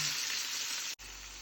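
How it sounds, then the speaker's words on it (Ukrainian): Close, steady sizzling of capelin fish frying in a hot pan, a dense crackling hiss with a brief break near the end. "А я далі продовжую смажити."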